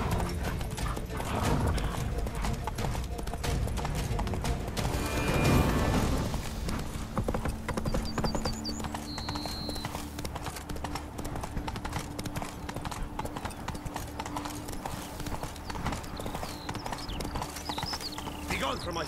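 Roach, the horse in The Witcher 3: Wild Hunt (Blood and Wine), clip-clopping in a steady hoof rhythm along with game music and ambience, continuous throughout with a brief louder burst near the middle.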